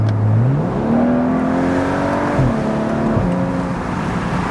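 A BMW 335i with the N55 engine revs steadily, its tone climbing and falling through a few smooth sweeps and a brief dip, loud and close with no talking.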